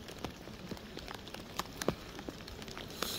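Rain patters on surfaces in the countryside on a cold morning, scattered close drips and taps over a soft steady hiss, fairly quiet with irregular louder drops.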